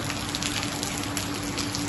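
Steady rain pours down over a farm field in Punjab, making a continuous, dense, even hiss with no pauses and no voices.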